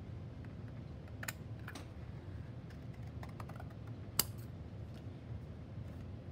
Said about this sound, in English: I'm actually cutting out little triangles